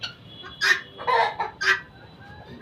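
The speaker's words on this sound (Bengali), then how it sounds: "দেশি মুরগি আছে, ফাউমি আছে।" Deshi and Fayoumi hens cluck nearby, with four or five short, sharp calls in quick bursts over a quiet background.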